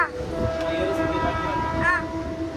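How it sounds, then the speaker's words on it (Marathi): A passenger train travels toward Kasara, heard from inside as a steady rumbling roll with a short high whine or horn-like tone partway through, continuous and close. "3 तास ट्रेनमध्ये बसलाय."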